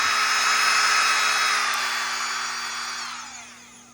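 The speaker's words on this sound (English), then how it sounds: "I'd say the motor sounds a lot better quality than Dremel" A Phalanx rotary tool motor runs at a steady high-pitched whine, loud and close, then begins to wind down toward the end with a falling tone.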